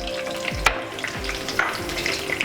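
Green chillies, dried red chillies and curry leaves fry in about two spoons of oil over medium flame, a steady close sizzle with a few sharp pops and low scraping stirs.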